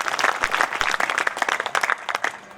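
An audience at a Hindi poetry recital claps and applauds steadily, a dense patter of many hands filling the room at moderate loudness.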